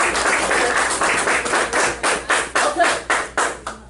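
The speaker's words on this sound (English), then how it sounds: "let's clap it up that they decided to take" Students in a classroom clapping together, loud rhythmic claps that start as a loose patter and settle into a slower, evenly spaced beat of distinct, close claps.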